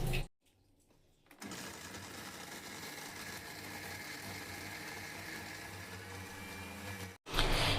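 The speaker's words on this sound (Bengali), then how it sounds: "দেখুন আমি যেভাবে বেটে নিয়েছি মিক্সিতে" Kitchen mixer grinder running steadily, grinding soaked soybeans and spices into a paste; a continuous close motor whir and grind that starts after a brief pause and runs for several seconds, cutting off near the end, with no talking.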